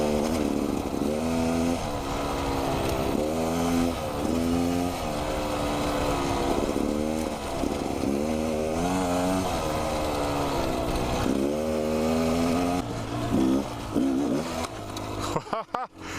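A trail motorcycle's engine drones loud and close while riding, rising and falling with throttle changes in a continuous buzzing roar before cutting off near the end.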